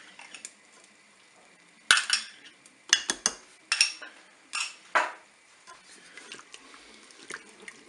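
Utensils clink and scrape against a pan as a sauce with mustard is stirred, in a short irregular series of sharp metallic knocks over a quiet background.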